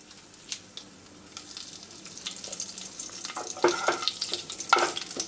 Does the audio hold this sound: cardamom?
yes